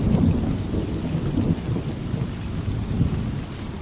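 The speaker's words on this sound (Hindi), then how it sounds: "फिर एक रात जब शहर में भयंकर बारिश हुई" Heavy rain pours steadily with low rolling thunder rumbling underneath, a dense continuous storm with no voices.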